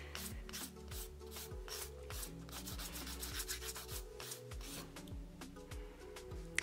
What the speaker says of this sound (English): you kind of can look at them and decide where else to file to bring it down